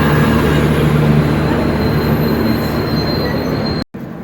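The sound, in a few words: Dhauli Superfast Express train pulling into Belda station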